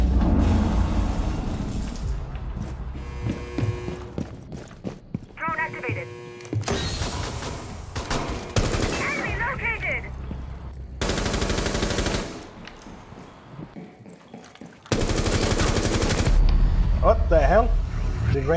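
Automatic weapon fire in a Rainbow Six Siege ranked match on Hereford rattles out in several loud bursts, separated by quieter stretches of game noise, with a player talking over the action.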